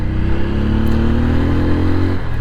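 A TVS Apache 200 4V motorcycle accelerates hard close by, its single-cylinder engine note climbing steadily in pitch through a loud, continuous rev.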